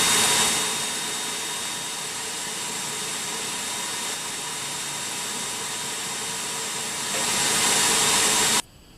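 Atlas 7B metal lathe roughing down rusty metal stock, a continuous steady hiss-like cutting drone lasting several seconds that cuts off abruptly at the end.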